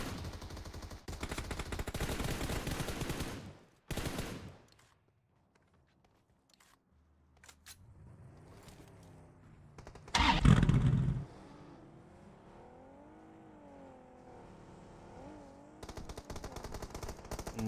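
Gunfire in a battle royale video game tournament match: bursts of rapid shots at the start and again near the end, with quieter gaps, a louder impact in between and faint in-game sounds.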